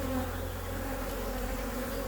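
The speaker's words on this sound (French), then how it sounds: "Elles battent des ailes sur les cadres, ça elles ne le font jamais." Agitated honeybees beat their wings on the hive frames in a loud, close, steady droning buzz with a strong low hum, continuous and without voices.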